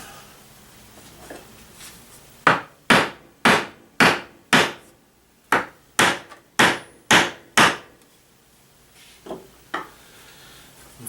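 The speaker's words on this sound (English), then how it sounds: "We're going to hammer those down a little bit" Hammer blows seat wooden legs into a DIY shop stool, about ten sharp, evenly spaced knocks in a steady run, close and loud, with a couple of softer taps trailing after.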